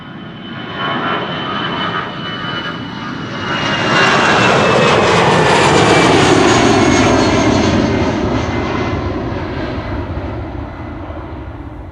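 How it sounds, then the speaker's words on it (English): An easyJet Airbus A319 departs Amsterdam Schiphol, its jet roar swelling from a steady rumble to a loud, broad peak before easing off, with a thin whine running through it and no voices. "EasyJet A319 to Persenchester up first, flight 7851."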